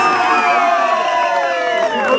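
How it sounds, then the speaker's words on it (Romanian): Wedding guests cheer and shout together in a loud, dense burst, many voices overlapping in continuous celebratory noise close by. "Aplauze pentru medesica noastră!"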